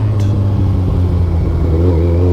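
Petrol motorcycle engine idling loud and close with a deep, throbbing exhaust rumble, rising slightly as the throttle is blipped toward the end.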